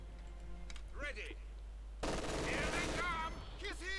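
Bursts of MG42 machine gun fire in a Company of Heroes 2 battle, dense rattling automatic fire erupting loudly midway, mixed with other game combat sounds and brief chirping effects, with voices talking over it.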